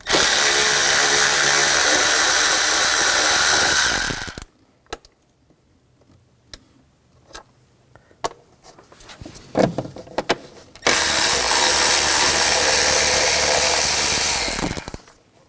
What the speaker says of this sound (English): And use a 10mm socket. Take these bolts out.